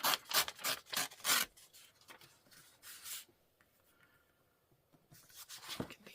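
Old line being torn off by hand, a run of quick dry ripping bursts close up, then a quieter stretch with faint rustling before one last tearing pull.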